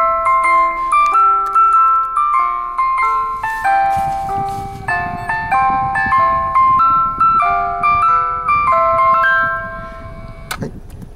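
A music box plinks out the Railway Song melody, bright plucked comb notes in a steady tune, close and clear with no voices, ending on a sharper click.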